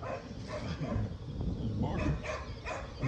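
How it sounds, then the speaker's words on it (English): A neighbor's dog barks in short, fairly faint bursts outdoors, mixed with voices and background noise. "I'm glad Barker barks though, because he's a neighbor"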